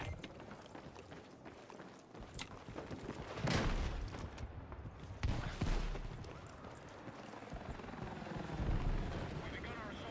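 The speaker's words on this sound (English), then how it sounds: "Like the helicopter got me as well." Battlefield 6 helicopter rotor and engine thrumming steadily through a busy combat soundscape with bursts of gunfire, while players talk over the top.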